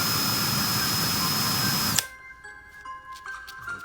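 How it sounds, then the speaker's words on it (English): A power drill bores into a hard, non-aluminum metal connector for a turbo oil feed line on a G-body Monte Carlo SS with an LS swap. A loud, steady whine runs for two seconds and then cuts off, leaving quiet shop sounds. "And we're gonna finish drilling them."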